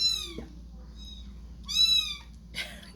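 A kitten held on a towel in someone's lap gives three high, thin meows spaced across a few seconds, close and clear over a low steady background hum.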